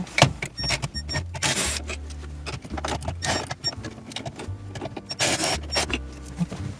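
A power tool whirs in short, repeated bursts while removing the two 10mm screws that hold the radio in a Lexus LS 460 dashboard, with clicks and rattles of parts between the close, moderately loud runs.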